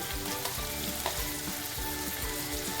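Onion and tomato fry in hot oil in a pan, a dense, continuous sizzle with small bubbling pops and occasional stirring clinks. The cooking is for a Konkani fresh cashew vegetable dish, and no one speaks.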